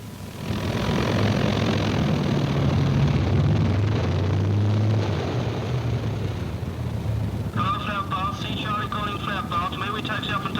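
Propeller aircraft engine running steadily before taxiing and take-off, a loud continuous drone filling the clip, joined near the end by a warbling radio-like tone.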